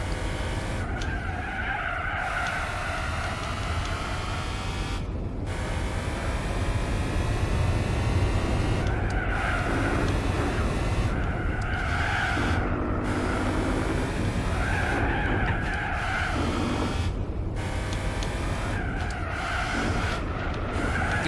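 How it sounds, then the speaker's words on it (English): Tires squeal and skid continuously as a car spins out in Gran Turismo 4, under a steady engine drone, with the screech rising and falling in repeated waves across the whole stretch. "Somehow put the car to spin here."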